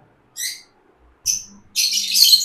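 Lovebirds for sale give sharp, high chirps in three bursts, the last one a longer dense squawking run, close and loud against near silence.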